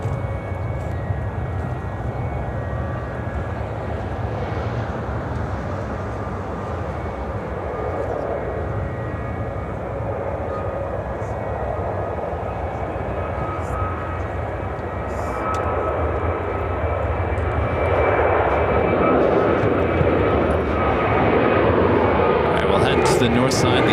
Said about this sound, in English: Emirates landing, or about to land on 27 Center.